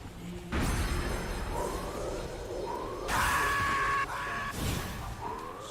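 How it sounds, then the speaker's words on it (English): Eerie old-school scream in Metal Gear Solid 3 among spirits of the dead, rising wailing tones and shrieks sweeping over a droning background in repeated swells, fairly loud, no talking. "Old school spooky scream."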